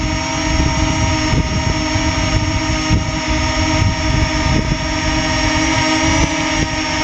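A DJI Mini 2 SE drone in flight gives off a constant high-pitched propeller buzz with a rough, steady whine, close and loud throughout, with no talking.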